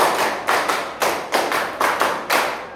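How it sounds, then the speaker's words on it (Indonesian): Rhythmic group clapping in a school PE lesson, with about six sharp, loud clap bursts at fairly even intervals, each followed by a short decay, and no talking. "Tepuk 1, tepuk 2, tepuk 3, tepuk 4, tepuk 5, 2 kali tepuk 5"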